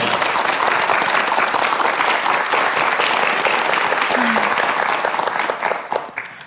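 Dense, sustained applause from a lecture audience in a hall, loud and steady for several seconds before tapering off at the end.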